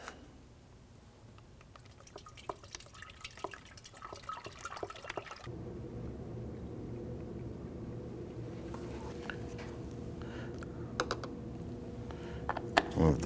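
Coolant pours through a funnel into the reservoir of a 2013-2019 Ford Police Interceptor, a steady liquid gurgle and trickle running close and continuous after a few earlier clicks and handling noises.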